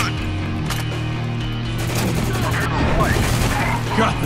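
Shotgun fire rings out in the shooter game Spec Ops: The Line, heavy blasts packed into a constant barrage of combat noise, with a steady low hum underneath and voices shouting through the fight.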